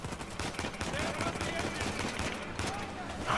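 Rapid gunfire in the video game Uncharted 4, played on hard mode, rattles in dense continuous bursts at a steady loud level throughout, with a sharper burst right at the end.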